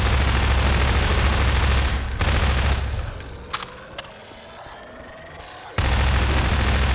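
A dense burst of rapid gunfire in Garry's Mod, loud and close, cuts out into quieter clicks and impacts, then resumes abruptly near the end.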